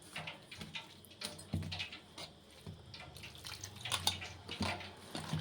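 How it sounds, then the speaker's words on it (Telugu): Water is added to a maida flour batter with onion, curry leaves, salt and a pinch of baking soda for onion bonda, giving soft intermittent splashes and wet squelching taps while mixing, close and fairly quiet. "వాటర్ ఇలా వేస్తూ కలుపుకోవాలండి."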